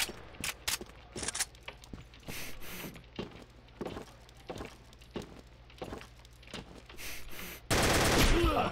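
Gunfire in the video game Combat Arms: a string of sharp, loud shots fired one at a time and in quick bursts, ending in a dense burst of noise, with no talk over it.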